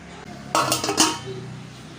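A metal lid set down on a pot of soaking parboiled rice and toor dal gives a short clattering clink and scrape, close by, with quiet room tone before and after.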